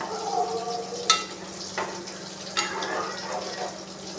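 Soft bubbling and sizzling of fish curry with mango simmering in a pan, with a few light clinks of a utensil against the pan.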